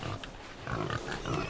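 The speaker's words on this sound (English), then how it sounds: "It's a pig." A pig in the Sea of Thieves video game grunts in several short, soft oinks over faint background noise.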